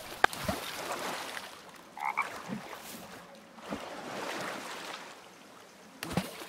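Frogs croak in the survival game The Forest, a few short bursts spread through the clip over a soft watery ambience, with no talking.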